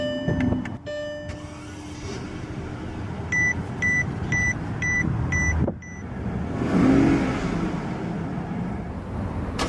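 A 2012 Maybach 62S starts by push button, giving a chime and a series of rhythmic electronic warning beeps, then a low engine whir that swells and settles into an idle, close and moderately loud.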